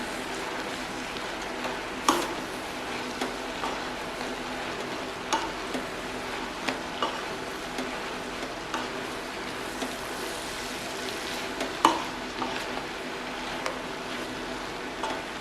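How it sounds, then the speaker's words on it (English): Cooked egg noodles stirred in a frying pan for haluski, giving a steady soft sizzle with scraping stir strokes and a few sharp utensil clicks against the pan, close and alone. "16 ounces of cooked egg noodles. And you're going to give that a stir."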